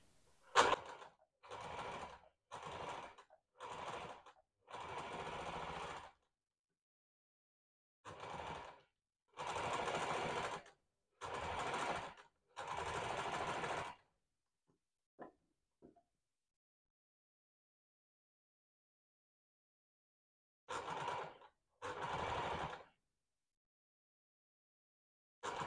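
A domestic sewing machine stitching an ornamental pattern onto a 70 by 70 quilted patchwork cushion, running in several short bursts of rapid whirring separated by pauses, with no talking.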